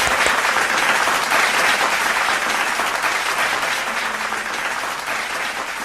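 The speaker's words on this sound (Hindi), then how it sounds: "बहुत तालियां भाई" A large audience bursts into loud, continuous applause at a live Hindi stage demonstration, thick steady clapping that gradually eases slightly in intensity toward the end.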